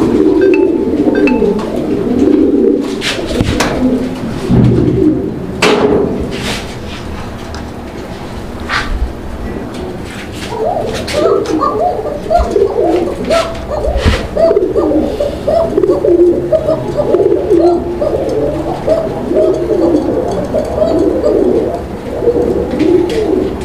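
Fancy pigeons, including Archangel, Pouter and Show-king breeds, coo nearby in a loft, their soft rolling calls overlapping continuously over occasional flutters and knocks.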